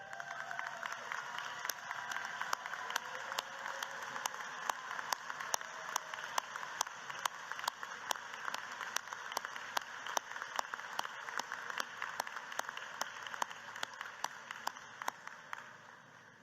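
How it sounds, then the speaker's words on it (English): An audience at a university commencement ceremony applauds, a sustained, fairly distant patter of many hands clapping that fades out gradually over about sixteen seconds. "please stand so we can give you a round of applause"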